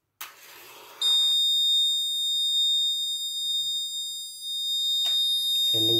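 An Arduino Uno R3 fire detection system with a GSM SIM 900A module sets off its alarm buzzer, a loud, steady high-pitched electronic tone that holds for about four seconds, followed by a brief voice at the end.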